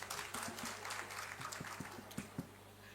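Applause from an audience at a Bhaktamar discussion gathering in Agra, a soft, steady wash of many hands clapping at moderate distance, with a few sharper individual claps standing out near the end.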